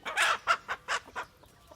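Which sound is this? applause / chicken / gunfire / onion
chicken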